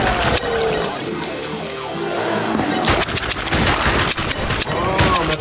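Gunfire in The House of the Dead Remake rattles in rapid volleys with sharp impacts and shattering debris, loud and close, alongside a voice talking over the shooting.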